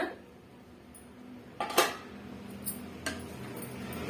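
A utensil stirs pumpkin and green cowpeas in a metal pan, with a few sharp clinks and scrapes against the cookware over quiet background noise.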